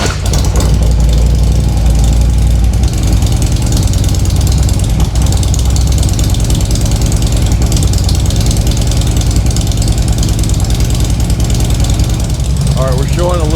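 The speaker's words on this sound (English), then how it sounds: "I'm going to go ahead and start the bike" A 2008 Harley-Davidson Street Glide fitted with a ThunderMax unit fires up and settles into a loud, steady idle with a low rumbling throb that runs the whole time, and a voice speaks briefly near the end.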